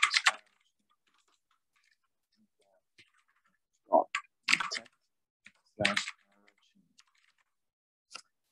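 Computer keyboard typing in short bursts of clicks separated by quiet gaps, close and fairly crisp, with scattered single keystrokes between the clusters.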